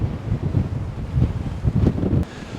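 Strong wind buffets the microphone in a continuous low roar with gusty swells on a breezy December morning, dropping off just before the end.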